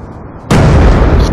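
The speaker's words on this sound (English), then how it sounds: "Friendly hellstorm missile inbound." A hellstorm missile strike in a first-person shooter game detonates as a sudden loud, broad blast that sets in partway through and holds as a sustained roaring rumble to the end.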